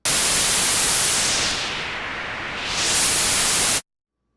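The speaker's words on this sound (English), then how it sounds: "there's something else I need to show you about synth oscillators, and that's the noise generator" Broad static-like hiss from an Omnisphere synth oscillator's noise generator, loud and continuous, dipping and thinning briefly in the middle as if filtered, then swelling back before stopping abruptly.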